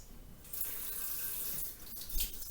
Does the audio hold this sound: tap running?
yes